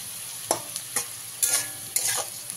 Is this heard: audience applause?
no